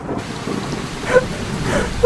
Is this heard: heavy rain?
yes